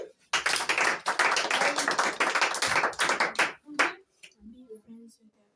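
Children in a classroom clap together in a loud, dense burst lasting about three seconds, then the clapping breaks off and a voice speaks quietly.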